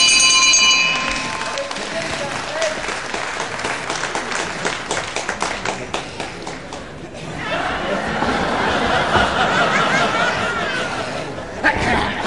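A brief ring of the bell at a professional wrestling match sounds at the start, followed by crowd noise, applause and a commentator talking.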